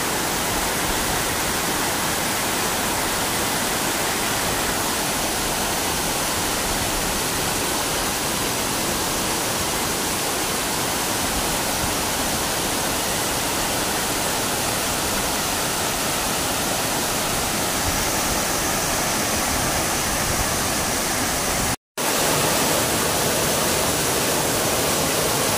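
Bantakay Falls in Sta. Catalina roars in a steady, loud, broadband wash of rushing water that fills the whole stretch, with only a split-second dropout near the end.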